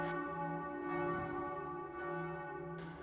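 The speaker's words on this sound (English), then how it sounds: "to hear them chiming was once believed to be an omen of death" Deep, resonant bell chimes standing in for foxglove flowers, known as dead man's bells, struck several times with long sustained ringing tones that overlap and decay.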